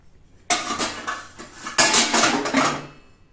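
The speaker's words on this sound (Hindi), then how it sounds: "जाओ बर्तन धो के आओ, रसोई में जाओ बर्तन धो।" Dishes being washed in a home kitchen: steel pots, plates and cutlery clatter and clank close by in two busy bursts of scraping and knocking, with no voices.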